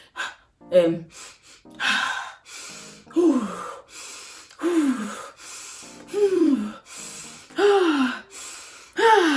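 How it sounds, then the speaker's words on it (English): Slow, deliberate breaths through labor contractions repeat at a steady rhythm, each a sharp inhale through the nose followed by a long, voiced exhale through the mouth, close and clear. "Breathing through your nose and out through your mouth."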